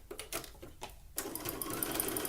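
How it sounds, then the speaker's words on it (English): A sewing machine stitching around the edge of a swimsuit cup: a few short stuttering bursts of needle chatter, then a continuous fast running whir, close up. "So I'm going to keep sewing around the edge of this cup, and I do have to pivot at the corners."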